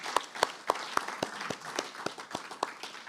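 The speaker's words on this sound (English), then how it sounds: "More applause, please, for Patricia Spears Jones." A few people in an audience clap for the poet Patricia Spears Jones, sharp distinct hand claps in a loose, fairly regular rhythm with a thinner patter underneath.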